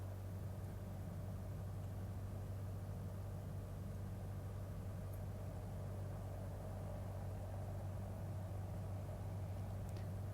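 A light aircraft's engine drones steadily at reduced throttle while taxiing toward the runway, a constant low hum with no break or change in pitch.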